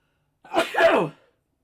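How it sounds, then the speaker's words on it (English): A single loud sneeze, close by, with a sharp intake and a burst lasting under a second, followed by silence. "I gotta sneeze."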